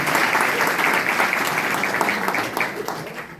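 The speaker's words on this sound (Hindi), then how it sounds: "हम अपने आदरणीय मंत्री जी का हृदय की गहराइयों से जोरदार तालियों से अभिनंदन करते हैं" Crowd applause welcoming a minister at a political gathering in India, a dense, loud roar of many clapping hands sustained evenly for several seconds and easing slightly toward the end.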